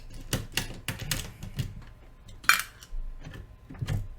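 A USB hub board pulled out of an open laptop during a repair: a series of small clicks and plastic taps, then one sharp snap, close and quiet with no talk.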